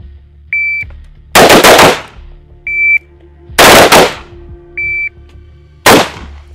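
Shot timers beep during military live-fire training in Poland, each short electronic tone followed about a second later by a loud, close burst of two or three rapid gunshots, repeated three times.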